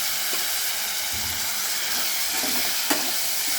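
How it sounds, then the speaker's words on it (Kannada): Ground green chilli and ginger masala frying in a pan, a steady soft sizzle with faint stirring scrapes throughout and one brief clink near the end. "ನೋಡಿ, ಹುರಿತಾ ಇದ್ದೀನಿ."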